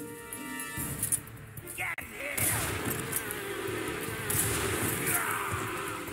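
Bees buzzing in Metal Gear Solid 3 on PS2, a steady droning insect hum that runs without a break, with louder game noises and a person talking over it.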